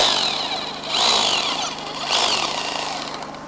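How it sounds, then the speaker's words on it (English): A power drill whirs during restoration work on a grave, running in two rising surges of a few seconds, loud and close, with no talking. "We'll drill this in next"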